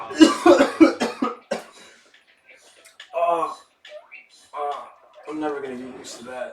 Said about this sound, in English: he starts coughing